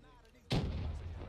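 A grenade explosion in Black Ops 3 lands as one sudden loud blast with a rumbling tail, cutting in over faint game background.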